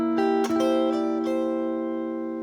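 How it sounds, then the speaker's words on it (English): Ukulele plays the fourth bar of a rock-blues melody: a few bright plucked notes and a strum that rings out and slowly decays, close and clear with no voices. "Let's play just the 4th bar by itself"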